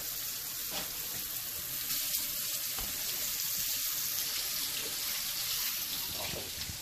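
Flour-coated beef browning in hot oil for a stew, a steady, continuous sizzle and crackle of frying that holds at an even level throughout, with no voices over it.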